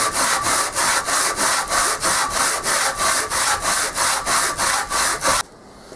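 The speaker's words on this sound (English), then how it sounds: "Next order of business, sanding the top of this and then scraping it." Sanding strokes rasp back and forth across the wooden top of a guitar headstock, a loud, close, even rhythm of about three strokes per second that stops abruptly near the end.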